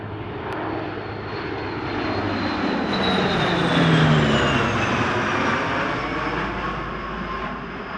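A military maritime patrol aircraft flies past at the Wings Over Illawarra 2022 airshow. Its loud, broad engine roar swells to a peak mid-pass and then slowly fades, steady and continuous with no voices.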